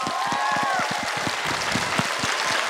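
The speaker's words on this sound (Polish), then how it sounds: "A największe brawa dla mózgu tej operacji, dla pani Agnieszki." Audience applause after an outdoor Mulan stage show in Pniewy, 2023: dense, steady clapping from a crowd, fairly close, with a brief voice or whistle rising over it.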